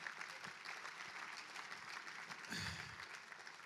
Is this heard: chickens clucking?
no